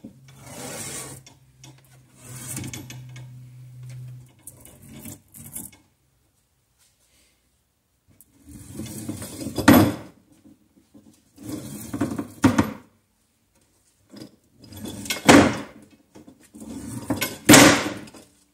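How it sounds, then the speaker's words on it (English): Vinyl window screen spline pried up with a pry tool and pulled from its frame channel gives several close, raspy scraping and peeling bursts, with a quiet gap partway through and a faint low hum early on. "So I can use this pry tool to get underneath it and bring up the spline. And it's as easy as just pulling it right out."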